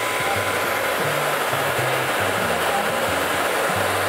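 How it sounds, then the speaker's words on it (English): A hair dryer blows with a constant, loud whooshing hiss, a faint low humming pattern shifting beneath it; no talking. "Then taking the dryer,"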